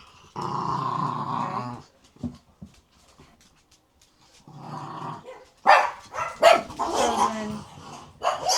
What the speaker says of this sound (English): get out of here if you're gonna keep growling